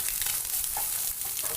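Pointed gourd, potato and egg frying in a pan, stirred over a steady low sizzle with soft scraping and light clacks near the middle of the short stretch.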